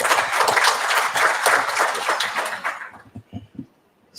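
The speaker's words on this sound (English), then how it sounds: "Let's give a round of applause." An audience at a plenary lecture session breaks into a round of applause, dense steady clapping for nearly three seconds before it thins to a few scattered claps and fades.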